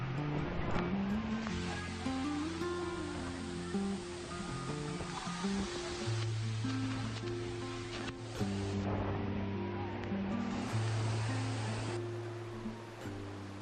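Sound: waterfall rushing water

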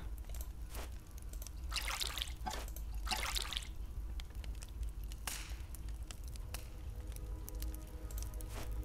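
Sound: water being poured, video game

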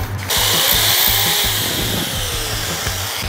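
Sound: power drill with 1/8 inch bit drilling metal plate

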